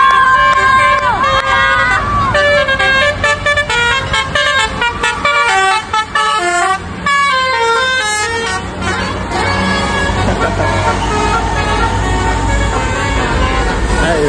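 A bus passes and sounds its basuri horn, a loud musical multi-tone horn playing melodic honks. Excited onlookers talk over it and road noise rumbles underneath.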